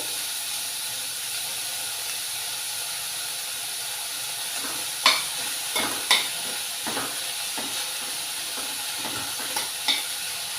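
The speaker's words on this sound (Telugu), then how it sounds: "ఇవి ఉల్లిపాయలు బ్రౌన్ కలర్ వచ్చినంత వరకు వేయించుకోవాలి" Onions frying with curry leaves for a tangy brinjal chutney give a steady hiss, broken by a few sharp clinks and scrapes of a spoon stirring the pan; no one talks.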